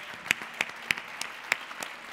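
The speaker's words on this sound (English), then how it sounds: "let's give Mari a big applause" Audience applause at a Latitude59 founder-stories stage event, heard as a sparse, crisp run of separate claps spaced about a third of a second apart, fairly close, with no voices over it.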